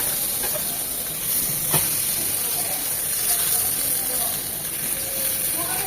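Eggplant slices dry-frying in a pan without oil, giving a steady soft hiss and faint sizzle throughout, with a brief clatter partway in and a voice speaking over it.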